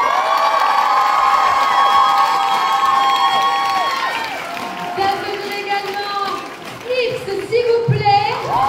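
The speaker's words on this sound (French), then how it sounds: "Je vous demande s'il vous plaît d'applaudir de nouveau la briochée." Audience at a cosplay contest at a fantasy and Japan convention applauding and cheering loudly, with dense clapping and shouts filling the hall, then tapering off as an announcer's amplified voice comes through.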